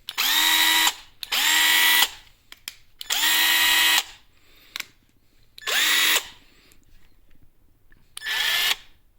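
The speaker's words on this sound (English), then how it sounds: "here's what the little driver sounds like" A small Hyper Tough 20V cordless driver runs unloaded in five bursts of about one second each, with a whining motor that spins up and stops, plus faint clicks in between, close and clear.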